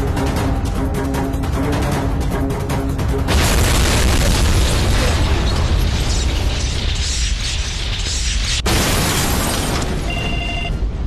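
Bomb explosions in a Kannada action film scene land as loud, sustained booming blasts that follow one another with abrupt cuts, and a dense rumble fills the whole stretch.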